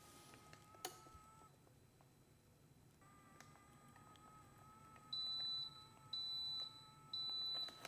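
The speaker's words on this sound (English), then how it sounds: "the 3 beeps indicate that it's done." A vacuum sealer finishes sealing a bag of liquid with three evenly spaced, clear electronic beeps, each about half a second long, after a quiet stretch with faint handling noise.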